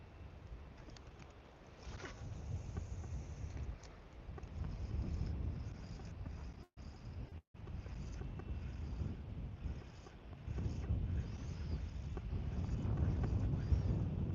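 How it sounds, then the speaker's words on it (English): Steady wind gusting over the Missouri River from a fishing boat, a broad low rumble that swells and eases across the span, with brief dropouts and heavy buffeting on the microphone. "here comes the wind again"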